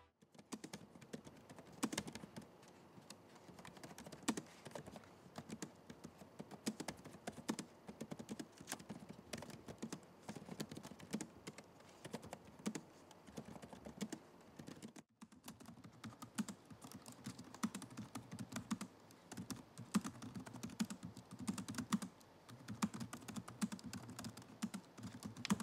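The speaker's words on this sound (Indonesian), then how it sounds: "berikut ini deh hasil typing test dari keyboard untuk kedua laptop ini" Typing on Acer Aspire Lite 14 laptop keyboards during a typing test: a fast, steady stream of quiet key clicks and taps, close and continuous, with no voices.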